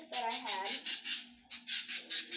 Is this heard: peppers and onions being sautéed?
no